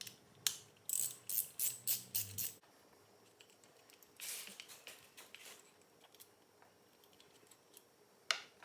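A ratchet socket wrench, 7/16 size, working brake torque bolts loose during a BH-B brake caliper fitting: a quick run of sharp, clicking ratchet strokes near the start, then scattered quieter handling clatter.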